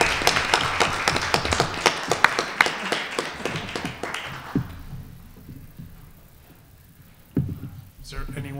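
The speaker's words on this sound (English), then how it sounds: "I applaud you." An audience applauds children at a student government meeting, with a dense burst of clapping that fades out over several seconds, followed by a few faint thumps and room noise.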